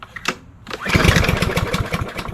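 A Troy-Bilt TB230 lawn mower engine is pulled to start, sputtering with a quick run of close, loud firing pulses after a brief quiet pull.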